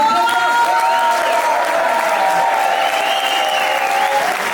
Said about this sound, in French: Je voudrais encore un tonnerre d'applaudissements pour le numéro expérimental